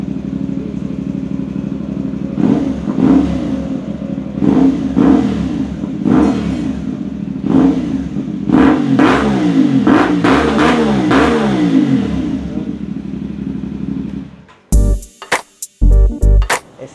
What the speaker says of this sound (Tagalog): subukan natin tong shorty kasi magaan, tsaka balita ko tahimik din naman to eh. Walang silencer.